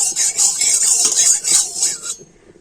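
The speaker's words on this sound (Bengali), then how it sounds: "তেলটাকে কড়ার চারিদার একটু ভালো করে ছড়িয়ে দিচ্ছি" A spoon scrapes and rasps steadily around a wok on the stove, spreading mustard oil. The metal strokes run close for about two seconds, then fall quiet.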